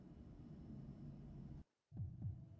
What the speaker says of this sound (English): Why am I hearing heartbeats?